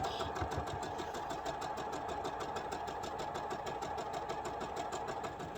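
A sewing machine stitching quilt seams while the top is pieced, running in a steady fast mechanical whir with an even rapid pulse throughout, close and moderately quiet, no talking.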